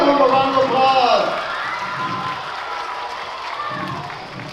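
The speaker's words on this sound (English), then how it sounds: "Let's give them a round of applause." A crowd of children and adults at a fire department fire prevention week kick-off claps and cheers loudly, with shouts over steady applause that slowly tapers while staying fairly full to the end.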